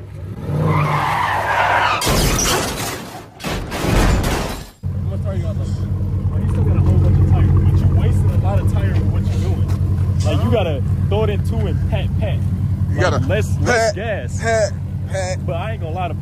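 Dodge Challenger Hellcat tires skidding and sliding: loud, sustained tire squeal over a roaring engine lasting many seconds, with bursts of people talking over the noise.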